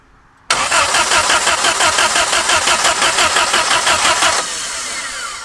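An 80-year-old abandoned Jeep engine cranks with the choke pulled, a loud rapid rhythmic chugging of the starter that begins suddenly and runs about four seconds before dropping to a softer steady hum.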